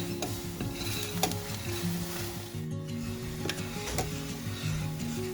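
Milk boiling in a pot is stirred steadily, the spoon scraping and swishing against the metal over a continuous bubbling hiss, close and moderately loud, with no talking.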